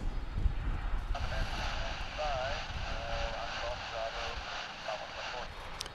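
A Boeing 787-900 airliner at DFW International Airport, its jet engines giving a steady distant roar with a shifting whine, heard under nearby talking and wind rumble.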